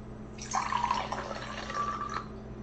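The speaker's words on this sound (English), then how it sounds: "Now pour some water into a bowl." Water pours in a short steady stream for about two seconds, splashing softly into a bowl with a faint ringing tone, then stops.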